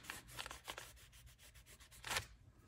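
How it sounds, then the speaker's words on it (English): Paint being rubbed off a mixed media abstract painting makes a series of soft, close scrubbing strokes in a loose rhythm, ending in one longer, harder rub, with no one speaking. "Well, then I'm going to rub that off."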